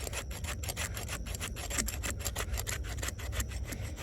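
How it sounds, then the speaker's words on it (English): A combat knife's spine jimping scrapes repeatedly over wood to raise fluff, making steady, close, rasping strokes in a quick continuous rhythm. "I'm doing more effective scraping with the spine"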